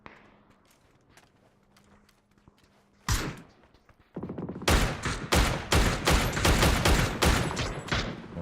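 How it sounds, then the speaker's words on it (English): Gunfire in a competitive battle royale match comes in two bursts: a sharp volley around three seconds, then a dense run of repeated shots that lasts to the end. Both are loud and close over a quiet background. "Shots over here from Joker Pajantai."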